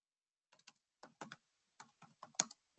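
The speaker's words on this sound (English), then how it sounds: "and by typing that in" Keys clicking in short separate bursts on a computer keyboard as a search term is entered into a building-specification database, close and clear with quiet pauses between strokes.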